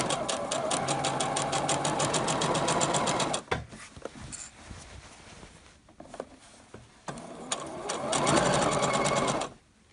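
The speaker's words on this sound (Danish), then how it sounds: "Og jeg syr sådan cirka en 3 mm fra kanten her." A domestic sewing machine stitching a sweatshirt seam about 3 mm from the edge at stitch length 3 runs in a fast, even whirring burst for several seconds, pauses with light handling noises, then starts again briefly, close by.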